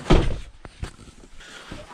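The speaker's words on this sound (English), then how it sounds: "Okay, close the door." A house door shut on a freezing day gives one heavy close thud up front, followed by a couple of softer knocks and rattles as it settles.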